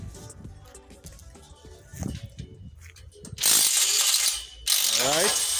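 A ratchet wrench clicks rapidly while loosening bolts and nuts on hydroponic pipes, with softer metallic handling first and then two loud, sustained ratcheting bursts up close.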